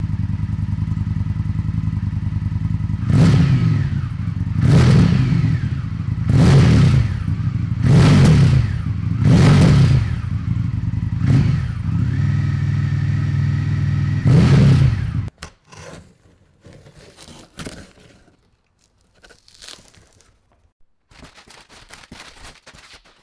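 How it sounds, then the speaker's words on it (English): An Indian FTR1200 motorcycle with its stock Akrapovic exhaust, baffle removed, revs up about six times in a steady rhythm over a deep idle, then shuts off, leaving scattered clicks and faint handling noises. "Right now, it has the system that it comes with, the Akrapovic exhaust."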